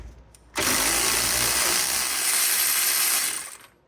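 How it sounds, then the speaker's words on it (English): Cordless battery ratchet spinning out caliper bracket bolts on the front brakes of a 2011 Mazda CX-7, a close, loud continuous mechanical whir lasting about three seconds after a brief quiet start, with no talking. "I can get them off the rest of the way with the battery ratchet"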